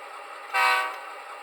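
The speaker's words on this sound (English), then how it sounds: "that's actually the coupler sound button on my throttle, but it seems to do a short horn" A short horn blast from an Athearn Genesis GP-38 model locomotive, set off by the coupler sound button on a throttle: one brief, bright tone rising out of a steady hiss of background noise.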